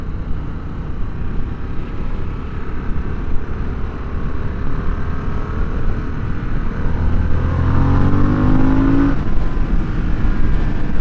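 A 2022 Harley-Davidson Sportster S accelerates on the road, its engine note rising and swelling louder over wind rush, with the pitch climbing steadily toward the end as speed builds.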